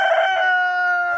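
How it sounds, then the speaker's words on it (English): Cuckoo Marans rooster crowing close by, one sustained harmonic crow carried loud and steady from start to finish with no talk. "So these are the cuckoo marans I have"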